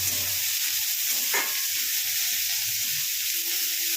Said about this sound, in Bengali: 3টে মাঝারি সাইজের পেঁয়াজ দিয়েছি। এটাকে এবার ভালো করে ভেজে নেব।